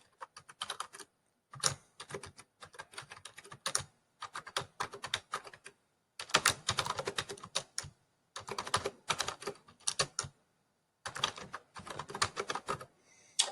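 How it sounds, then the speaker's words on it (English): Close-up typing on a computer keyboard comes in rapid bursts of clicky keystrokes separated by short pauses, with no talking. "So that was a bit of typing"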